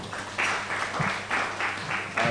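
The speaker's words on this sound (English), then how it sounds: "Let us clap for her." Applause from an audience at a moot court competition in Kenya for the moderator: sustained, fairly loud clapping that swells in bursts, with some speech faintly mixed in.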